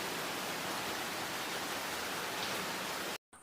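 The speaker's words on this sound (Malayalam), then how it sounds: "പെട്ടെന്ന് നല്ല മഴയും വന്നു" Sudden heavy rain pours down in a steady, dense roar of drops hitting surfaces, close and uniform throughout before cutting off abruptly at the end.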